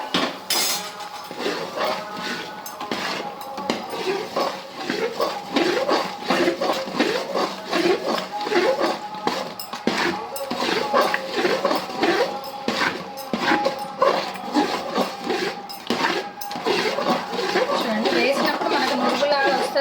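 Mysore pak mixture being stirred in a pan, with a steady run of scraping and clinking of spoon against metal throughout, close and busy, while someone talks over it.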